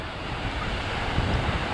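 Choppy ocean surf at a beach on a rough, wavy day rolls in as a steady, loud wash, with wind buffeting the microphone and no voices.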